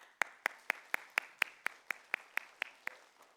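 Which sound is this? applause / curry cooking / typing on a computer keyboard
applause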